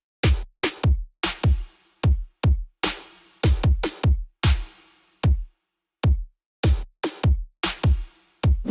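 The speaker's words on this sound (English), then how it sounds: "First we set the tempo to 150 BPM, then make a nice sounding drum loop like this." An electronic drum loop at 150 BPM built in FL Studio plays punchy kicks and snare hits in a repeating pattern with short gaps between hits, loud and close, without any voices.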